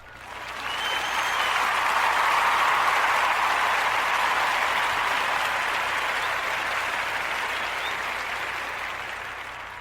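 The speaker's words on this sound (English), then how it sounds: "let's give her a round of applause for being on top of that" Sustained applause from an audience at a talk show taping, a dense steady wash of clapping that holds for about ten seconds, fairly loud and without pauses.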